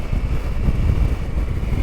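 Loud, low rumbling wind buffets the microphone continuously while riding a KTM 890 Adventure R motorcycle in Moab, a heavy roaring rush at speed, with no voices.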